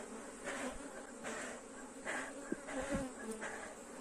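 A populous honey bee colony hums steadily inside its hive, a soft continuous buzz at low level with no voices present.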